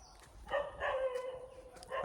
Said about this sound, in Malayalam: അപ്പുറത്തെ വീട്ടിലൊരു പട്ടിയുണ്ട് ആ പട്ടി കുറച്ചുകൊണ്ടിരിക്കുക